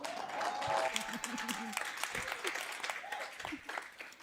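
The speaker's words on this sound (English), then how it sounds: "let's clap hands for her" Audience applause at a women's sport conference, a moderate patter of clapping hands mixed with voices and chatter throughout, rising and falling in bursts.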